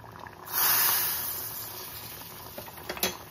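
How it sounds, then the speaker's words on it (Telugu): A hot tempering of oil, spices and curry leaves is poured into tomato dal, setting off a loud, sudden burst of sizzling that fades into softer crackling with a few sharp pops near the end. "ఈ తాలింపును పప్పులోకి వేసుకుందాం."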